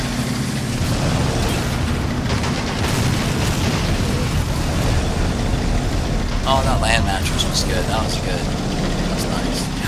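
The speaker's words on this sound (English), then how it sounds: "Some AT guns just hit me again." Anti-tank guns fire and shells strike in a Men of War Assault Squad 2 4v4 town battle, dense continuous rumble of booms and bursts with engine noise and chirping sounds, loud throughout.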